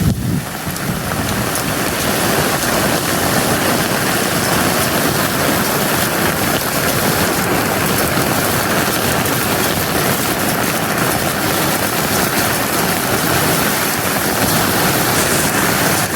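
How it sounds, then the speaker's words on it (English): Heavy monsoon rain pours down steadily and loudly, with a dense hiss and patter that may include small hailstones striking surfaces throughout. "Some of this sounds like little pieces of hail."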